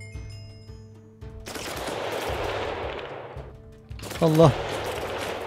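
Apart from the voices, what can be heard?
gunfire in modded Minecraft video game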